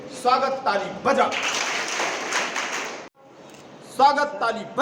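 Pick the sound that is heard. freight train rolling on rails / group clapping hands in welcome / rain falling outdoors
group clapping hands in welcome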